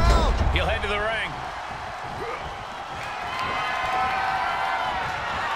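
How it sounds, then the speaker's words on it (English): An arena crowd roars in WWE 2K22 during an elimination chamber match, a broad sustained swell of cheering that grows slightly louder, with a thud early on and commentary over it. "just listen to the crowd"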